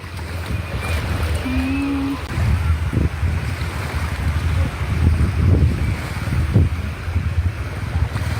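Sea waves wash in at Bangsaen beach in Thailand, a constant roar and swash mixed with heavy wind buffeting the microphone, with a faint, brief tonal sound in the background.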